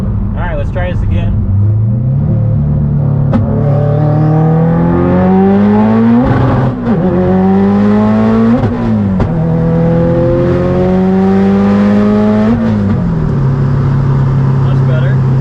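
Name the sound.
Subaru STI accelerating and revving during drive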